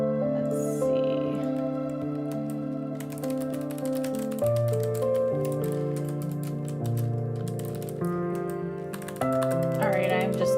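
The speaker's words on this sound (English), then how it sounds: "I'm just typing in the Discord" Someone types on a computer keyboard in a rapid run of light clicks. The clicks sit under steady background music that continues throughout.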